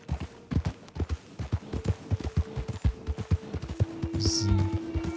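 Horse hooves gallop in Red Dead Redemption 2 Online, a fast, loud rhythmic thudding of repeated strikes close by, with a low steady game hum and a brief higher tone near the end.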